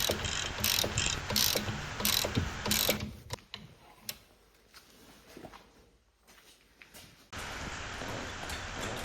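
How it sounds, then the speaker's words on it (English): Ratchet wrench work on shock absorber bolts gives rapid clicking pawl bursts, followed by a quieter stretch of scattered mechanical ticks and scrapes, then a steady low background noise. No voices are heard. "And for both of shock absorbers I open bolts very easy."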